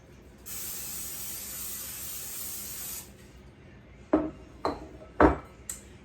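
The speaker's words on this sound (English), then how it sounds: "So you want to spray your pan." A steady hiss of aerosol cooking spray onto a baking pan for about two and a half seconds, followed by a few sharp metallic clinks of the pan.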